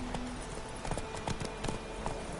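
Horse Roach trotting in The Witcher video game, a steady clip-clop of hooves under a low background rumble.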